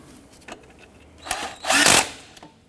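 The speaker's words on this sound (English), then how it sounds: "Now that we have that bolt started, you can tighten that down." Strut bolt on a 2006-2014 Honda Ridgeline 3.5L V6 driven tight with a power tool, a short whir then a louder sustained half-second burst, close and alone.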